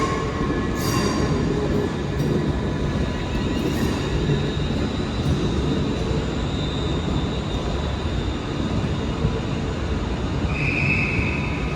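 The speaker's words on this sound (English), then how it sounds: "And also departing now is the 1557 Avanti West Coast service to" An Avanti West Coast train departs Glasgow Central, a steady, loud rumble of rolling stock with faint high squeals and station ambience throughout, no voices over it.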